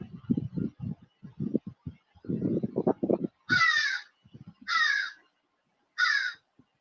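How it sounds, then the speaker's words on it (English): Crows cawing three times in loud, harsh, evenly spaced calls, following a stretch of low rumbling and knocking sounds. "Those were some nice birds right before the break."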